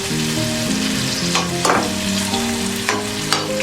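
Garlic browning in hot oil in a pan, a steady close sizzle and crackle with a few clanks of a utensil stirring, alone without talk.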